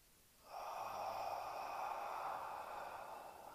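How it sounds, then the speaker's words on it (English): A slow, steady exhale drawn out for about three seconds during guided meditation breathing, close and soft, starting after a brief quiet pause with no talking over it. "breathe out"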